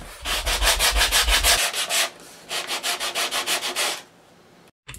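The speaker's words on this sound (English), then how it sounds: "using the sandpaper, slightly angle it towards or away from yourself, really, around about 5 degrees, and then just put a bevel onto it" Sandpaper rasps back and forth over wooden hull planks of a 1:200 Prinz Eugen model ship, beveling the edges in two bursts of rhythmic, close strokes with a short pause between.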